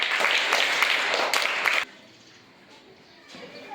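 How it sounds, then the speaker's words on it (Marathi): Children's audience clapping at a primary school quiz, loud sustained applause that cuts off sharply partway through, leaving a quiet room with faint voices. "जयसाठी परत एकदा टाळ्या वाजवायच्या"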